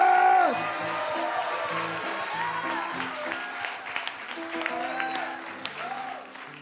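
Congregation clapping and cheering at a Nigerian church service, a loud burst that settles into steady applause with whoops, under a preacher's excited voice and some musical tones.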